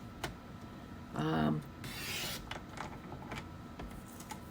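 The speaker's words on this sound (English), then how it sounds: "So yep, I've cut that right." A Stampin' Up! paper trimmer blade slides through a sheet of card in a short rasping stroke, followed by a softer scraping pass, close and clear against a quiet room.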